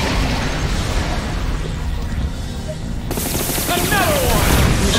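Machine gun fire from an animated Cars 2 action scene, a steady rattling burst with explosive booms that swells louder toward the end.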